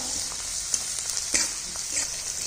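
Chopped onion, green chili, tomato and a little coriander sizzle over medium gas in a pan. A steady close hiss with a few sharp stirring clicks and spatters.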